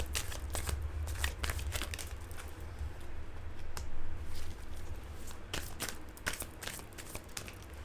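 Tarot cards shuffled and drawn at close range, a run of soft, rapid papery riffles and flicks with brief pauses, over a steady low hum and no talk.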